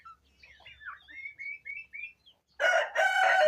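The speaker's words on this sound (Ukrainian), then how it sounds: "Ой, дивіться, підростають індики мої і цепляточки." Young turkeys and chicks peep and chirp softly in a rising series, then a louder hen-like squawk or crowing call breaks in close by.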